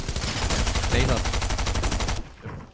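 Rapid automatic gunfire in the video game Fortnite rattles out in a dense, evenly spaced burst for about two seconds, loud and close, then stops abruptly, leaving a faint echo.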